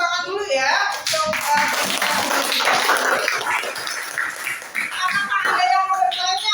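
Classroom audience clapping together in a sustained burst of applause for several seconds, with voices and chatter mixed in at the start and end.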